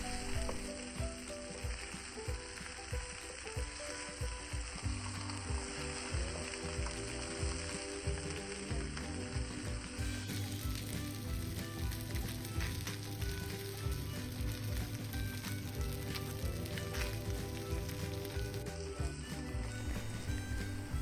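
Trout shallow-frying in oil in a pan, a continuous close crackling sizzle with steady popping throughout, layered with background music.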